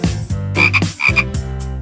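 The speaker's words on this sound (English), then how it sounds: "Frog." A frog croaks in a series of loud, close, raspy calls with short gaps between them, alone with no talking.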